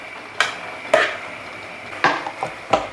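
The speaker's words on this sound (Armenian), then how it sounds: "Մի փոքր աղլեցնեմ ու խառնեմ" A spoon scrapes and knocks inside a pot of nearly cooked, lightly salted buckwheat, giving a few sharp separate clinks spread over a few seconds, close and fairly loud, with no voices.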